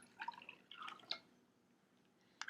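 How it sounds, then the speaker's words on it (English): Water from a dry one-cup measure pours into a mug in a quiet kitchen, heard as a few soft trickles and drips. "With one I'm going to fill the dry 1 cup measure with water"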